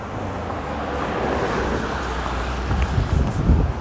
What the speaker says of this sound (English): I'm gonna just let these cars pass real quick.